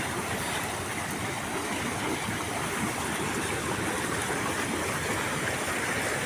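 Steady, loud rushing of sea water in Tuscany, a continuous broad wash of surf with no pauses or voices.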